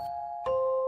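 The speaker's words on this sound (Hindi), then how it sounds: "हवा में एक हल्की सी घंटी की आवाज गूंज रही थी।" Two soft bell chimes from a horror story sound effect, each a clear ringing tone that sustains and fades, the second struck just after the first dies away.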